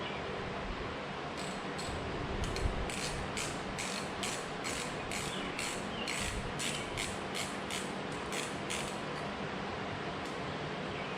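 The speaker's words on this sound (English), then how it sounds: "we'll get these switch housing screws taken out" A T25 driver backing out switch housing screws on a Harley-Davidson Softail Heritage Classic 114 handlebar, a fast series of evenly spaced ratcheting clicks over a steady hiss, close and moderately quiet.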